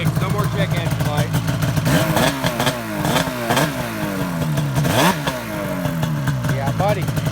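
A Project Assault motorcycle revs hard after a connector swap cleared its check engine light, before racing an 850 Khaos: repeated sharp rising blips over a steady, close engine drone, loud throughout, with voices faintly under it.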